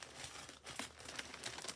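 Paper crinkling and rustling up close in quick, irregular bursts, with a few sharper crackles and no talking.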